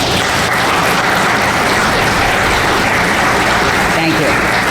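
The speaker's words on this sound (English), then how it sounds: "Now you may applaud." Audience applause at an annual general meeting, a loud, dense wash of many clapping hands filling the room continuously, with a few voices mixed into the noise.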